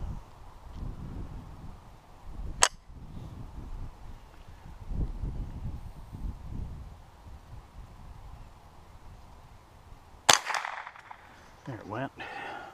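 .22 rifle fired outdoors: a sharp, sudden crack rings out near the start, then a louder report later, each very brief against a quiet background with light rustling.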